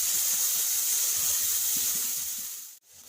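Blended onion paste is added to hot oil and fries with a loud, even hiss that holds steady, then cuts off abruptly near the end.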